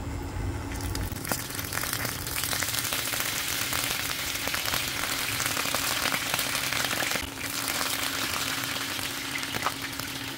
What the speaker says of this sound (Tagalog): Prito na natin yung mga isda.